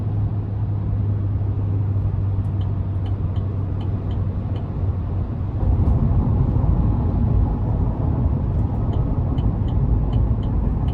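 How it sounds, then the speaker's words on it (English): A 2024 Chevrolet Silverado 3500 Work Truck crew cab with the 6.6-liter gas V8 drones steadily while driving, a constant low engine rumble with road noise that swells slightly partway through. "I like the loudness of the engine though. It just sounds strong, and not hearing the tires too much."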